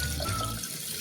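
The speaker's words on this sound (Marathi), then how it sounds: "तांदूळ पाण्याने स्वच्छ धुवूया।" Rice being washed with water, a brief, continuous close splashing and swishing of water, steady and fairly loud, with no voices.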